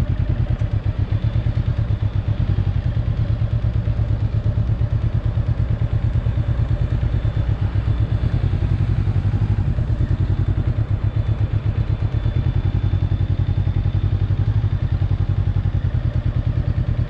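A motorcycle ridden slowly during an A2 licence lesson, its engine a steady, low, pulsing chug held evenly throughout with light mechanical clatter.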